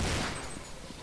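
Burst of gunfire in the video game Counter-Strike, a dense, loud volley of shots at the start that tails off into a noisy rumble within about a second, with no talk over it.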